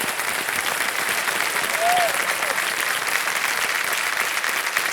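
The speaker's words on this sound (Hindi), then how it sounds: "एक बार फिर जोरदार तालियां बज जाएं इनके लिए" A television studio audience on the KBC quiz show breaks into sustained, dense applause for a contestant, steady and fairly loud throughout with a faint voice rising under it.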